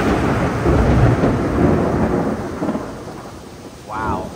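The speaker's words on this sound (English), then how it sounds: "couple really big lightning strikes just happened real close." Thunder from very close lightning strikes during a severe storm in Mammoth rumbles loud and continuous over steady rain, swelling and fading with a brief rise near the end.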